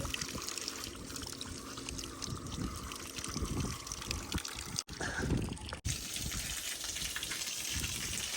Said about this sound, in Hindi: मोटर चल गई और ये उठा लिया उसने पानी भी